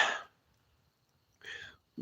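Two short, harsh coughs close by, separated by a brief silence.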